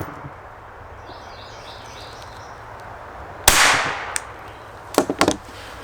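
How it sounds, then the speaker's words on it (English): Two sharp .22 pistol shots from a Taurus TX22 loaded with Federal Punch ammunition crack out about one and a half seconds apart after a quiet stretch, the second followed by brief rattling echoes. "We're going to load it up into the old Taurus TX22 and whack it with 2 shots."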